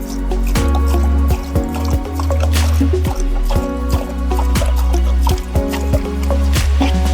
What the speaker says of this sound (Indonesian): Kita siramkan ke tanahnya boleh, terkena daunnya pun juga boleh.